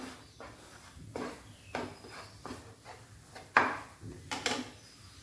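Peanuts are stirred in a pan over a low flame, producing a rhythmic series of scraping, rattling strokes roughly every half second to second, soft and close with a faint background hum.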